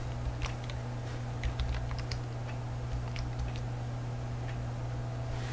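Someone types a sudo password on a computer keyboard: quiet, irregular key clicks in short clusters over a constant low electrical hum, with no speech.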